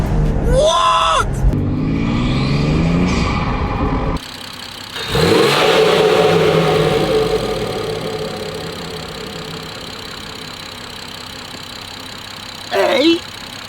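BMW M240i fitted with a carbon induction kit, engine revving loudly in bursts with a whooshing intake roar, mixed with excited talk and a sharp burst near the end.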